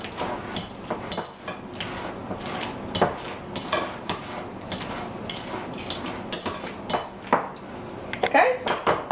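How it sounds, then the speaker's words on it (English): Fork mashing bananas in a bowl for banana nut bread, a run of close, irregular metallic clinks and taps against the dish with quiet background, no talk. "you're just going to take a fork or your potato masher or whatever you have convenience and mash it up"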